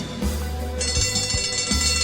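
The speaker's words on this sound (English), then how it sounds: "George holds the bell and gently rings it." A small hand bell rung gently, its bright, sustained metallic ringing starting partway through and lingering over soft low thumps and a steady background hum.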